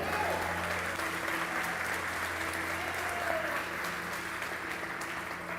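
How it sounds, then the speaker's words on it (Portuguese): A church congregation applauds during a sermon, an even, continuous clapping that holds steady throughout with faint tones beneath it. "Pode aplaudir a Ele."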